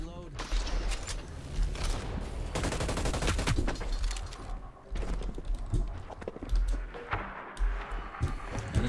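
Dense, rapid gunfire from shooting at an enemy in the video game Hyper Scape, nearly continuous bursts with brief pauses, loud and close.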